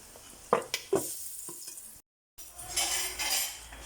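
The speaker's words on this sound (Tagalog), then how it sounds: "Pinirito na po natin yung ating liempo. Yan po siya. Kaya lang, matulamsik." Pork belly (liempo) fries in a pan, a steady hiss and sizzle with a few sharp clinks of utensils on the pan, then a brief hush as a lid goes on before the muffled sizzling resumes.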